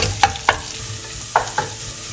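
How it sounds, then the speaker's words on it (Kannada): Onions fry in a pan for horse gram bassaru, a low sizzle broken by a few sharp stirring scrapes from a utensil. "ಇವಾಗ ಆನಿಯನ್ ಹಾಕ್ಕೊತಾ ಇದ್ದೀನಿ. ಆನಿಯನ್ ಕೂಡ ಗೋಲ್ಡನ್ ಬ್ರೌನ್ ಆಗೋವರೆಗೂ ಸ್ವಲ್ಪ ಫ್ರೈ ಮಾಡ್ಕೋಬೇಕು."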